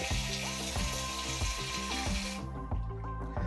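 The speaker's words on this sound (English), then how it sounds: "As you can see, it just jet washed it down." A tankless smart toilet jet-washes its porcelain bowl, a steady rushing spray of water close by that runs continuously, then thins out toward the end.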